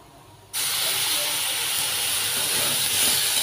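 Hot water poured into a pan of ghee-fried moong dal for khichuri sets off a sudden loud hiss of steam after a quiet moment, then a sustained, roaring sizzle that holds steady to the end.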